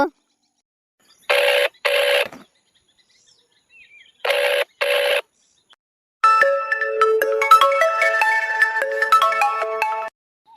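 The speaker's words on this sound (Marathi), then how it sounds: "कडक कडक आता फोन लावतो" A phone call's ringing tone sounds twice in double bursts separated by silence, then a melodic tune plays loudly for several seconds.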